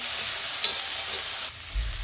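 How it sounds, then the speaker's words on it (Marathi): Vegetables, including brinjal, sautéing in a small amount of oil for Bhogichi bhaji, giving a steady close sizzle with light stirring scrapes and a brief low thump near the end. "अगदी थोडंसं तेल टाकून परतायचं आपल्याला, जास्त नाही।"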